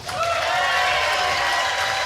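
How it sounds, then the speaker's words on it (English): A live crowd applauding and cheering at the Catfish Hole, a dense, steady wash of clapping held close and loud for about two seconds without a break. "Listen to that crowd"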